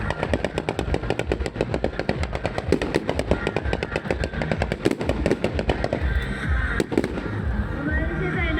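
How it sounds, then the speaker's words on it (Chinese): A fireworks show at the Nantou lantern festival sends rapid, dense bursts of crackling explosions that ring out loud and continuous, with a narrator talking over the barrage. "我们现在呢看到搭配的烟火"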